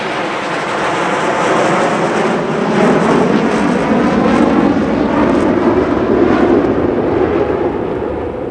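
Nine airplanes flying in an arrow-shaped formation give off a steady, broad engine drone that holds constant and fairly loud throughout, with no voices.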